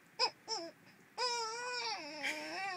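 A voice imitates a baby crying, with two short whimpering sobs followed by a longer wavering wail, close and fairly quiet.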